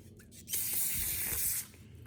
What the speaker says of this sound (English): we're gonna take this brake clean, spray it down